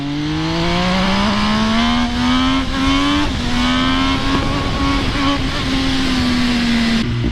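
A supermoto motorcycle accelerates hard close by, its loud engine note climbing steadily in pitch through the gears and briefly dipping at a shift before rising again, dominating the whole stretch without any voices.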